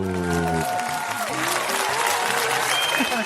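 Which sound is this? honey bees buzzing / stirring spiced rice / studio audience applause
studio audience applause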